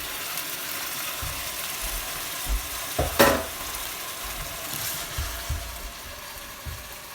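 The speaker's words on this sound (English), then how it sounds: "Fry that off for a couple of minutes" Blanched stinging nettles fry in a pan with a soft, steady sizzle, broken by a few brief stirring scrapes and clacks.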